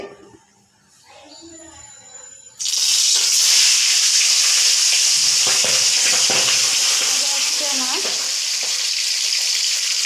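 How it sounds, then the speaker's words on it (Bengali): Fish dropped into hot oil in a kadai for a potato and pointed gourd curry, bursting into a loud, steady sizzle after a quiet start and frying continuously to the end. "এভাবে মাছ ছেড়ে দেব তেলে।"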